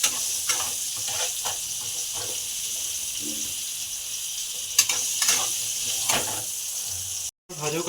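Pointed gourd added to hot oil with a little turmeric in a pan, giving a steady broadband sizzle throughout, with occasional stirring clatters and brief louder bursts near the end.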